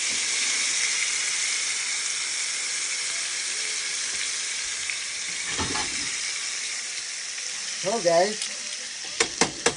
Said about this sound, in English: we're gonna fry these beauties up